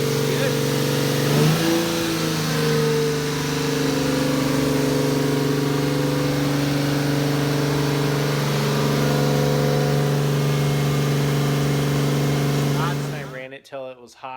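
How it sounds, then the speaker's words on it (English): A turbocharged Lexus IS300 engine running steadily while warming up, with a constant mid-pitched hum and a few slight rev changes early on, loud and close before cutting off near the end. "Motor sounds good."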